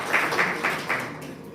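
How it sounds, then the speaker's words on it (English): Audience at a labour market research seminar gives a brief round of applause, a short burst of soft clapping in a room that fades after about a second. "Let's give another round of applause"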